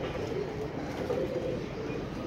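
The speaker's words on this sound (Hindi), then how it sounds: "पकड़ लिया है कबूतर और ये बैठा है ऊपर" Pigeon cooing near a rooftop while the bird is being caught, soft low coos blending into steady background noise with faint distant rumble.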